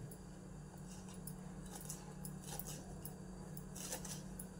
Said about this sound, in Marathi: आता हे शेपू आपण कापून घेऊ